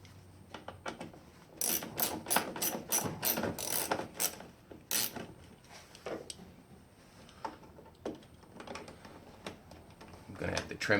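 A hand ratchet tightens nuts on a 1967–72 Chevy truck during a heater core replacement. Rapid clicking bursts come in repeated runs, close and crisp, with quieter handling noises between them.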